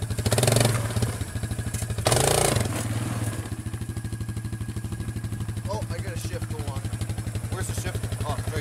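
Suzuki Ozark 250 ATV engine revving hard in steady pulsing bursts during a wheelie, loud and close, with people talking and exclaiming over it.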